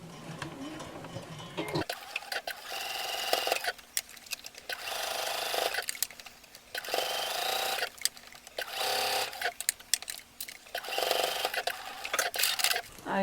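Sewing machine top stitching around the top edge of a fabric eco bottle carrier bag, running in several loud bursts of rapid mechanical whirring with short pauses between.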